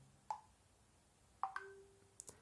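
WhatsApp Web message notification played from a computer's speakers: a few short, clear tonal chimes over a faint steady background hiss, with no talk.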